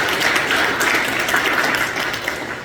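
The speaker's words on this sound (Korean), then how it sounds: "우리 모두를 위해서 함께 박수해 주십니다" A church congregation at an early-morning special prayer service applauds its volunteers, a dense, steady wash of many hands clapping together with no talk, holding level through its short span.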